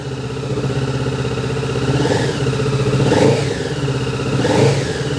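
A 2022 Kawasaki Z650 RS motorcycle with stock exhaust idles with a deep burbling note, revved a few times in short swells, close by and with no speech.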